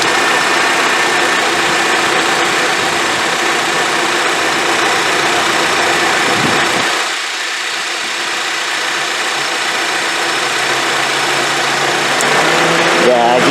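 A Honda CR-V idling with its A/C condenser fan running, a steady broadband whir and engine hum that stays even throughout, briefly dipping in the middle with no talking.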